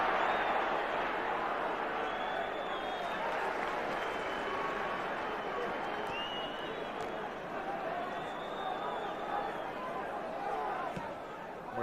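A large football crowd of about 44,827 at a 1986-87 Liverpool vs Everton match makes a steady, dense roar and murmur throughout, heard beneath continuous commentary.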